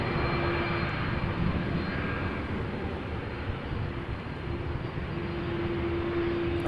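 A WestJet Boeing 737-800 jet airliner bound for Edmonton at Toronto Pearson gives a steady, loud engine roar with a faint whine, alone without talk.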